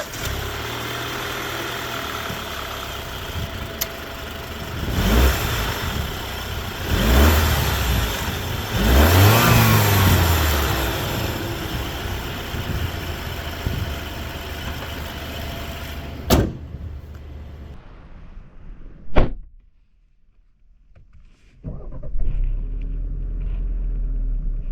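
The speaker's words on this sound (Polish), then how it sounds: "Jak słyszeliście, silnik naprawdę głośno pracuje, niemal jak jakiś diesel." A 2.0 turbo petrol Alfa Romeo Giulia with 280 hp runs loudly with a deep, rough, diesel-like rumble that swells as it revs. Then a door thuds shut, the outside sound cuts away almost to silence, and a low hum returns.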